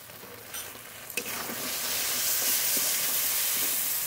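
Masala paste with cashew-poppy seed paste, salt and turmeric stir-fried in a pan, a steady close sizzle building in loudness with occasional scraping stirs, no voices.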